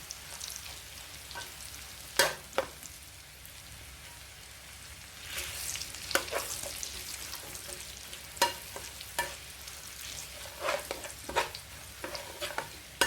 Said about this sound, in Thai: คนเรื่อยๆนะคะ คนบ่อยๆใช้ไฟกลาง เกือบแรงได้เลยนะคะ